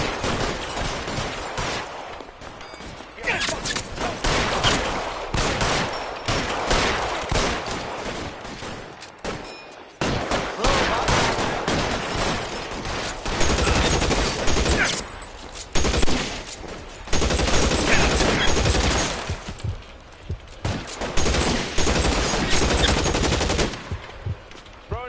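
Sustained bursts of automatic gunfire in the L.A. Noire shootout, loud and near, with volleys rattling almost continuously across the span and only brief gaps between rounds.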